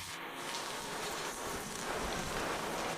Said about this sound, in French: Il pleut assez fort en ce moment